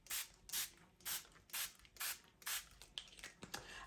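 Craft spray pumped onto paper over stencils, about eight sharp hissing bursts in a regular rhythm roughly every half second, close and fairly quiet, trailing into softer uneven spritzes.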